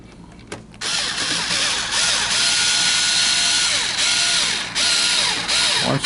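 Power screwdriver snugging a screw on an MEI VN26X1 bill validator, a close whirring motor drone with small pitch shifts as it turns, briefly quiet before starting up.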